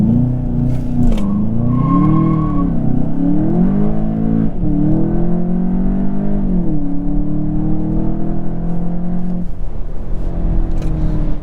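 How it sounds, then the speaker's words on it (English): A 2023 Volkswagen Jetta GLI in sport transmission mode accelerates hard at full throttle, its engine note climbing loudly through several gears with brief dips at each upshift, then settling into a steady high-speed drone of wind and road noise, no talking. "Now we do have to try an acceleration run real quick."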